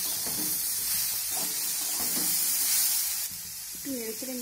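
Cauliflower stems frying and being stirred in a pan, a hissing sizzle with scraping stir strokes that eases off near the end, with a faint voice and some clatter.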